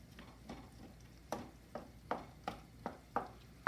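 Ground meat fries in a pan as it is stirred and broken apart for a taco bake, a faint sizzle under a series of sharp scraping knocks from a utensil at irregular intervals, with no talk.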